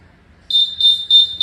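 A buzzer on a school smoke sensor project goes off after quiet, beeping in loud, shrill, evenly spaced pulses, close and alone.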